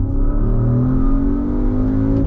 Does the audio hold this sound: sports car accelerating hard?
yes